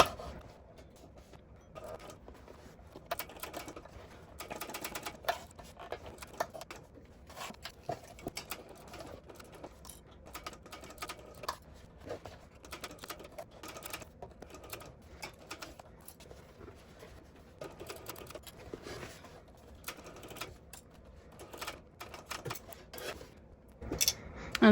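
A sewing machine stitching a bag seam, back-stitching at the start and end, runs in irregular bursts of rapid mechanical clatter separated by brief pauses over about 25 seconds, moderately close.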